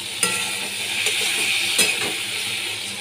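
Spice paste of cumin, coriander and chilli powder sizzling loudly in a pan for a fish curry with sola kochu, with a spoon scraping and clinking as it is stirred, close up and without talk.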